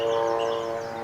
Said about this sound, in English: Sorry about the helicopter noise.